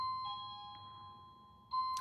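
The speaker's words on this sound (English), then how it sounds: "I'm about to take those doorbell chimes and just chuck them somewhere." Doorbell chimes ring out in clear, sustained electronic tones, fading slowly before a second chime strikes near the end in an otherwise quiet room.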